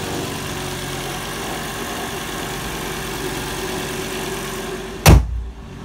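A cold Volvo car engine idles with a steady, even rumble, then a sudden loud thump near the end, like a door shutting.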